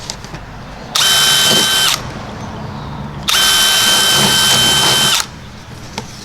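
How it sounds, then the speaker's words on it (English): A power drill bores holes in vinyl siding in two loud, steady bursts, the first about a second long and the second about two seconds, separated by quiet gaps. "Drill our holes."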